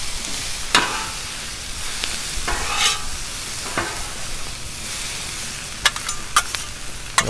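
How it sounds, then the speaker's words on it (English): Cajun shrimp and smoked sausage sizzle steadily on a Blackstone griddle while a spatula stirs and scrapes them, with several sharp metallic clacks against the flat-top standing out over the constant frying hiss. "Actually, I'm going to go ahead and just mix this in."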